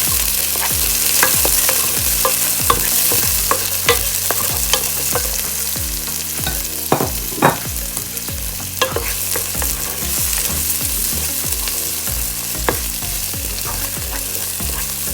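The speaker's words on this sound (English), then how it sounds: "So just add the tomato to it. Then you saute well." Browning onion and chopped tomato are sautéed in a pan for a Goan prawn pulao, with a steady close sizzle and repeated scraping, stirring strokes throughout, and no talking.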